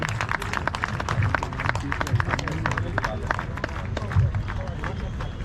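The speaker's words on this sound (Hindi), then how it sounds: "तालियां बजती रहने चाहिए।" Audience applause at the opening ceremony of the All India Fire Service Games in Ahmedabad, steady dense clapping from a large crowd that continues throughout, with a voice speaking over it.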